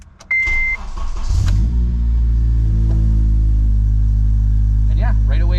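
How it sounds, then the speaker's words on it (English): An Acura RSX fitted with a new K-Tuned 72mm throttle body cranks briefly after a chime, then catches and settles into a loud, steady high idle close by. "we should be able to just key on and start up the car, and let's see how it idles now with the new throttle position settings."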